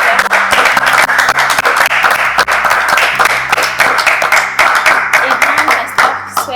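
Dense, steady applause from a church audience welcoming a pastor, many hands clapping loudly and continuously throughout.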